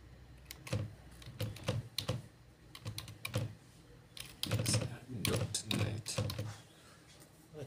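Fingers type a username and password on a computer keyboard, producing close, irregular bursts of key clicks in quick runs with short pauses between them.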